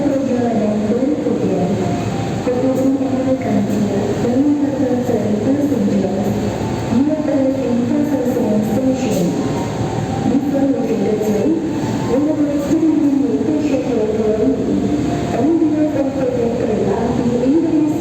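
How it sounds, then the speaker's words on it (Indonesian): A Jayakarta passenger train departing from Pasar Senen toward Surabaya Gubeng rumbles steadily alongside, with a voice talking over the continuous rail noise throughout. "ini di sebelah kereta api Jayakarta ya"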